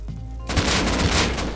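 Gunshots in the survival video game Rust: a sudden loud, dense volley of rapid, close firing erupts after a brief quieter moment and continues without pause.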